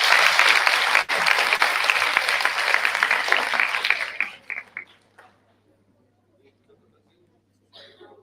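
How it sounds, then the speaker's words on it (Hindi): Dense, loud applause from an audience at an Environment Day and Menstrual Hygiene Day event, sustained for about four seconds before thinning into a few scattered claps and fading to near silence. "एक बार खुद के लिए जोरदार ताली बजाइए।"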